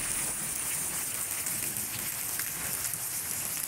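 Midday rain falls in Pabna, Bangladesh, a steady, even wash of drops on surfaces that stays moderately loud and unbroken throughout.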